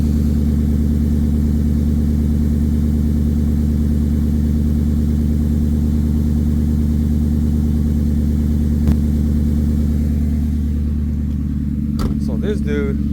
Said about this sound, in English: You guys missed it, but here's the cold start.